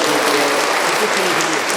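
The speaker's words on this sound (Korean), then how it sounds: "박수" An indoor talk-show audience applauds to welcome a guest, dense continuous clapping filling the room, loud and close, with some voices mixed in.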